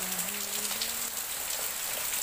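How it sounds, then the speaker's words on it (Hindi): Heavy monsoon rain falling outside during a power cut, a dense, steady hiss of drops on surfaces, constant and fairly close, with a faint tonal hum underneath early on and no talking. "ये देखिए पानी, मतलब बारिश इतना हो रहा है ना।"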